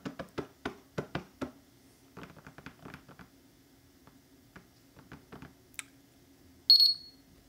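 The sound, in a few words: GPS bike computer beeping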